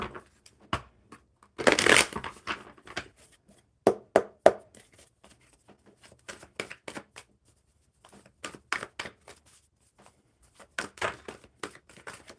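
Oracle cards being shuffled by hand, a loud riffling burst followed by repeated softer flicks and taps of the deck, close and alone without talk.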